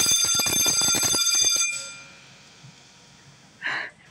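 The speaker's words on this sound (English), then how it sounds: "Yes, it sounds exactly like your school bell you'd hear in shows." A Faraday 4436 120V AC fire alarm bell rings loud and rapid for about a second and a half, then stops and leaves a faint ringing tail, with a brief unrelated noise near the end.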